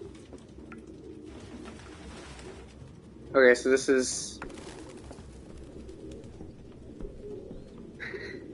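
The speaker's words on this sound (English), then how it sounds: "No human can live with all these fucking pigeons." Pigeons coo inside an abandoned house in the video game Detroit: Become Human, a soft steady murmur running beneath a person talking, with a brief louder burst of game sound partway through.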